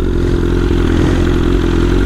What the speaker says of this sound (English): if you let off the gas, it slows down on its own. That's what causes those pops.